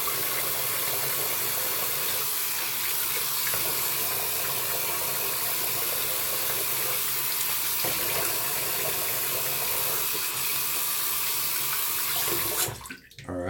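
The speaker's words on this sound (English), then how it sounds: "so I'm gonna rinse real quick and I'll be right back" A tap runs steadily into a sink during a quick rinse, a continuous close hiss of flowing water that cuts off near the end.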